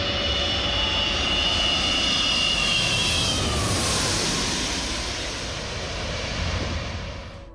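Engines of an Antonov An-225 Mriya aircraft roar loudly and steadily throughout, a broad continuous rumble with a faint whine that eases slightly toward the end, with no talk.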